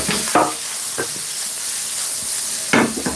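Meat stir-frying in a hot pan after garlic and ginger, a steady close sizzle punctuated by several sharp scraping bursts as the pieces are flipped and tossed.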